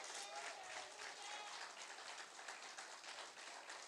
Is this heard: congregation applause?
yes